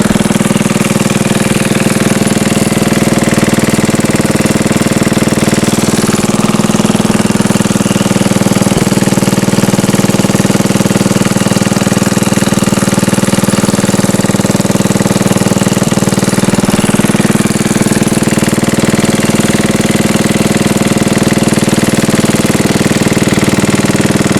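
A 74-year-old Briggs and Stratton engine running on a dyno near 2200 rpm, a loud, steady, continuous mechanical drone with a constant tone throughout.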